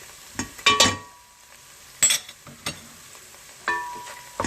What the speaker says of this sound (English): The garlic is done. Now I will add the tomato paste.